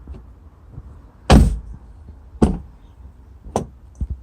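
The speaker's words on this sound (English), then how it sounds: "And you're pulling on the cable to open the door." The front door latch of a VW Golf Mk5 is worked by tugging the lock actuator cable, giving three sharp, close mechanical thunks about a second apart over a quiet background.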